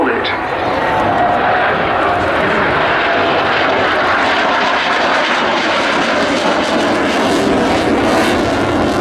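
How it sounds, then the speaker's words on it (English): A Swiss Air Force FA-18C Hornet jet from Fliegerstaffel 17 at Payerne roars past at an air show, a loud, continuous engine rush running throughout with crowd or commentary voices mixed beneath. "from the Swiss Air Force, from Fliegerstaffel 17 at Payerne, the FA-18C Hornet."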